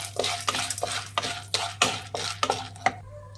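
Spoon stirring popcorn with pepper, salt and spices in a metal pot, giving a run of about ten rhythmic scraping and clinking strokes, close and fairly loud, with no talking.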